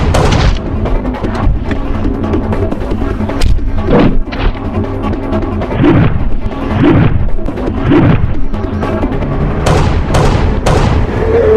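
Gunfire during a shootout in a Haryanvi action movie, a series of loud booming shots and impacts scattered over several seconds with crashes between them.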